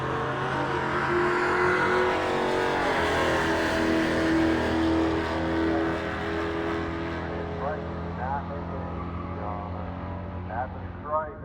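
A 1969 Dodge Dart and a Dodge Challenger roar down a drag strip at the Mopar Nationals, their loud engines sustained and droning as they accelerate, with an announcer talking over the noise.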